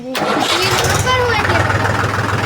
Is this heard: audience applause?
no